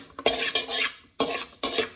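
Poppy seeds dry-roasting on low flame while a spoon stirs them in a pan, four bursts of loud scraping and rattling sweeps close up, with short quiet gaps between.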